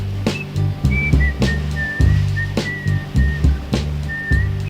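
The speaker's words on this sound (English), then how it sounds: "He whistled." A lone person whistles a bright melody close up over a soul-style backing track, with a steady beat of punchy drum hits beneath the clear, wavering whistled line.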